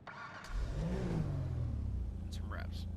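A Canis Seminole Frontier SUV engine in GTA Online turns over and settles into a steady low rumble, with a rising whine near the start and a voice briefly speaking over it near the end.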